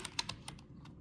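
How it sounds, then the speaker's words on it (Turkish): Keys on a Logitech MK120 USB keyboard pressed one after another, several crisp separate clicks spaced unevenly over about a second, close and fairly quiet, no voices. "Tuş sesini kontrol edelim hemen."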